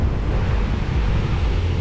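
Rough afternoon ocean waves roll onto the beach at Hoà Duân near Hue, a loud and constant rushing surf mixed with heavy wind buffeting the microphone, with no one talking.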